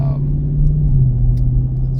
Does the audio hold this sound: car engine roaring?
yes